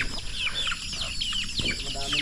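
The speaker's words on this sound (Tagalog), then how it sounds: "Yung mga manok, nandun na naman." Chickens cluck and chatter in overlapping calls near at hand, a steady busy flock sound that fills the whole stretch without a break.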